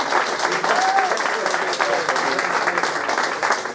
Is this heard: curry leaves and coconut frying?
no